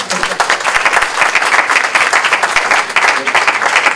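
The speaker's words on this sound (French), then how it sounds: "Ben, nous pouvons vous applaudir." Warm applause from a conference audience at a philosophy colloquium for young people, a continuous, fairly loud patter of many hands clapping at close range.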